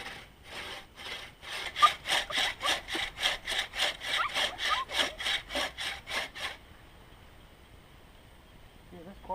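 Homemade bucksaw cutting square-section wood outdoors, about twenty steady rhythmic rasping strokes close up, stopping partway, followed by quiet background with a brief voice near the end.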